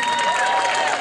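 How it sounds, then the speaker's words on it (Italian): Audience applause and cheering at a local talent show in San Casciano in Val di Pesa, a dense steady wash of clapping filling the whole brief moment. "Allora un bel applauso, giusto, Anna e Leonardo."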